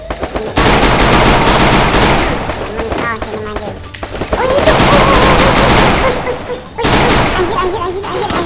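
Long, loud bursts of M60 machine gun fire in the mobile shooter Free Fire, three sustained volleys separated by short gaps, with brief shouted remarks in between.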